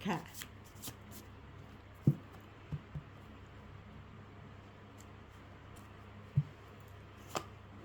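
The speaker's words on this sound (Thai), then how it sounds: "ขอเป็นตัวแทนจับไพ่จับไพ่ให้คนเกิดวันอาทิตย" Tarot cards being shuffled and drawn during a reading, scattered soft slaps and slides spaced a few seconds apart, close and fairly quiet over a low steady background hum.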